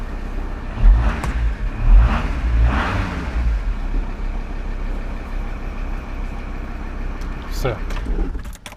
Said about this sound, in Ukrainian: зараз погазую